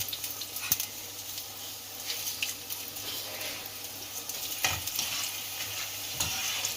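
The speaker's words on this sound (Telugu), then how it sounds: "శనగపాయలు వేసుకుంటున్నాం" Peanuts fry in hot oil for a tempering while being stirred, giving a steady close crackling sizzle with occasional scraping stirs throughout.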